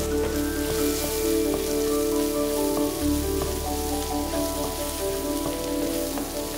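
Turmeric powder sautés in a hot pan for aloo bhaji, giving a steady, close crackling sizzle with a faint background hum throughout.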